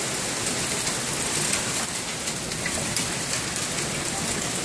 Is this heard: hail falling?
yes